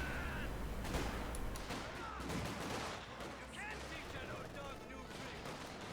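MG34 machine guns fire in Company of Heroes 2, with bursts of gunfire in a dense battle din. Explosions and other weapons sound at the same time, and a commentator talks throughout.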